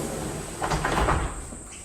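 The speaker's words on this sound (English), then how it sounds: "you have this great door that opens right up into the living space" A door in a house opens onto the living space, giving a soft sliding rumble and a few light knocks under a steady background hiss, moderately close and brief.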